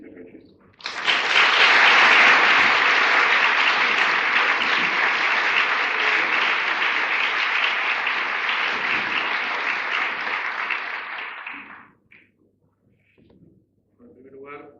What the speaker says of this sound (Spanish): ustedes le diesen una bienvenida calurosa a través de un aplauso